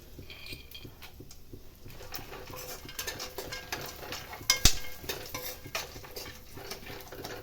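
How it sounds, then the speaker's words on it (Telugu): Dry fruits and peanuts stirred in ghee in a pan, a continuous close scraping and rattling of a spoon against metal over soft frying, with a few louder clinks midway. "తిప్పుతూనే ఉండాలన్నమాట, లేకపోతే అడుగంటుతాయి ఇవి."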